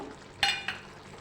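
Sev drops onto a sizzling tomato curry in the pan, giving two quick rustling bursts over a low, quiet simmer.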